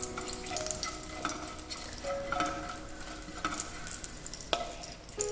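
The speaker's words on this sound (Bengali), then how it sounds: "এবারে দিয়ে দেব ফোড়ন, 2 শুকনো লঙ্কা আর অল্প কিছু গোটা গরম মশলা, এলাচ, লবঙ্গ এবং দারচিনি" Two dried chilies and whole garam masala (cardamom, cloves and cinnamon) sizzle quietly in hot oil, with soft crackles and light clinks of a utensil stirring throughout.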